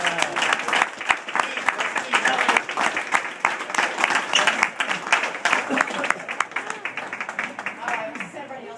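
Audience at a handball hall of fame induction bursts into loud sustained applause, dense rapid clapping filling the room for several seconds before gradually thinning out.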